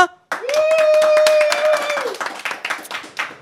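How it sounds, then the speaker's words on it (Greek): An audience claps for a guest, a loud drawn-out vocal cheer riding over the start before scattered, uneven clapping continues on its own. "Οπότε λοιπόν έχουμε τον NMC. Χειροκρότημα!"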